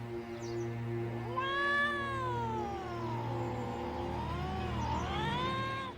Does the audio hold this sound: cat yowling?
yes